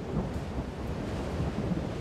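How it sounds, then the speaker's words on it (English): A cyclone rain depression sweeping inland brings a thunderstorm, with deep rolling thunder rumbling under steady rain and some wind, loud and continuous. "As the cyclone heads inland, it weakens and turns into a huge rain depression."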